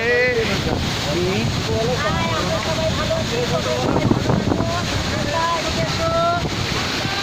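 A glacier-fed waterfall rushes steadily on the mountain trail of the Amarnath Yatra, a continuous wash of water mixed with wind buffeting the microphone and voices talking nearby.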